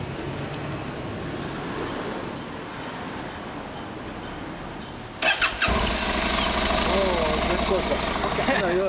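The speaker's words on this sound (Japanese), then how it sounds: "エンジン音聞かせてもらえる？" A 2012 Honda NC700X (RC63) motorcycle engine cranks and catches partway through, then settles into a loud, steady idle. Voices can be heard faintly before it starts.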